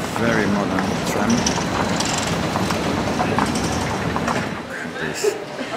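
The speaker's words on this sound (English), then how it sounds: "Very modern tram." A modern tram passing on a street in Bern, Switzerland, with a loud, steady rumble and rattle of wheels on rails close by, while people talk over it.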